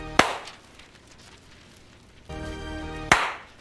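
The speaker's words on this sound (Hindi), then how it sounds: "इसलिए ट्रांजिशन वाली ताली बजा देते हैं" Two sharp, loud single hand claps used as transition hits, one near the start and one about three seconds later, each standing out cleanly from a quiet background with a low hum between them.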